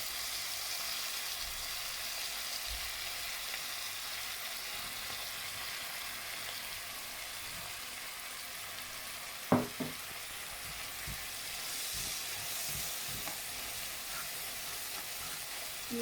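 Tofu fries in light and dark soy sauce in a pan, giving a steady, close sizzle throughout, with a short burst of stirring clatter near the middle and a few soft scrapes after it.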